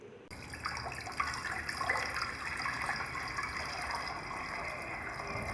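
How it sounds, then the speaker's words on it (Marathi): Water pours steadily into a pressure cooker in a home kitchen, a continuous rushing splash that holds at an even level throughout, alone without talk. "तीनचे चार पट हे बारा वाट्या पाणी ह्या कुकरमध्ये घ्यायचं"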